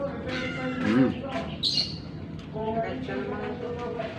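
A hungry pet cat lets out a couple of short meows close by, one low and one higher and sharper, amid a busy breakfast-time background of murmuring and clatter.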